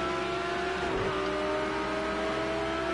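Racing car engines from Project Cars 2 in an online GT3 practice race, including a white Audi, a continuous steady engine drone with sustained tones and a brief low thump, no talk.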